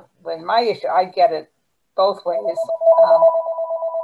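A telephone rings with a steady electronic warbling tone in pulsing bursts during a committee meeting, starting partway through and continuing under a man's speech.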